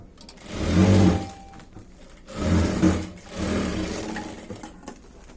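Sewing machine stitching along the edge of a round cloth sack, three bursts of motor whirr rising and falling, each a second or two long with short pauses between, close and clear without talk.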